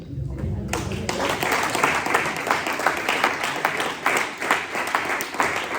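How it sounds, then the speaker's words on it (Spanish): A church congregation breaks into applause after a quiet moment, many hands clapping together in a lively, steady rhythm that holds at full strength. "¿Alguien tiene un aplauso para el Señor?"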